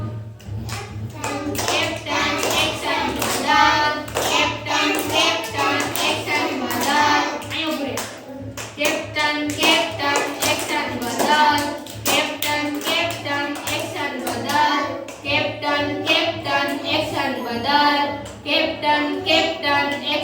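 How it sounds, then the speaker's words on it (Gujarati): Children clap their hands during a classroom action game at an anganwadi, with continuous quick claps, some loose and uneven, that fill the whole stretch, and young voices chatter faintly underneath. "સરસ તાળી પાડજો"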